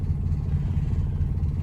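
A 1951 Ford engine idling with a fuel problem, a steady low rumbling throb heard close and even throughout.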